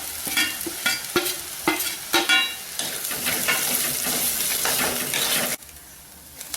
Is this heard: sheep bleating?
no